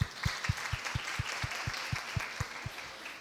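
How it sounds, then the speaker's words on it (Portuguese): An audience in Maranhão, Brazil claps at a public event, a fairly faint, rhythmic round of handclaps in steady, evenly spaced beats without talk over it. "E aqui eu quero pedir uma salva de palmas para Buriticupu."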